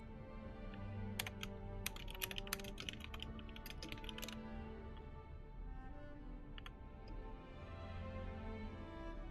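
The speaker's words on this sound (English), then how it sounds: "my keyboard sounds perfectly fine. You can hear every single tap" Close, quick tapping on a computer keyboard over a low steady hum, with dense bursts of keystrokes early on, then a few scattered taps later.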